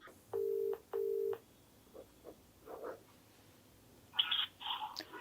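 A telephone call is dialed: two steady keypad tones, then scattered quiet clicks and a few short higher-pitched beeps as the line connects, faint and with no talking.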